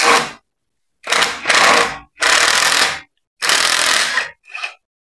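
Several loud, close bursts of ratcheting and rasping come from an 8 mm socket wrench working a seized bolt on an old Renault abandoned for 25 years, separated by short silences.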